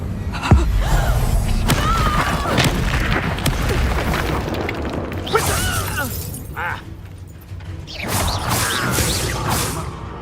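Incendio fire spell from a Hogwarts video game, a cluster of whooshing blasts, thumps and crackling bursts with game sound effects layered over a busy background.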